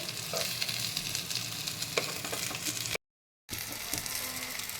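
Pumpkin-leaf-wrapped paneer paturi frying in oil in a pan, giving a dense, continuous crackling sizzle heard up close, with a brief dropout partway through.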